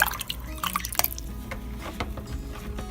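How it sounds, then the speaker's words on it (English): Himalayan salt being stirred into beet kvass liquid, with soft quiet clinks and light liquid swishes coming in small irregular bursts, close by and faint. "I'll continue stirring this and come back to you when it is dissolved."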